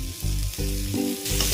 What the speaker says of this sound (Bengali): হালকা ভেজে নেবো 1 মিনিট।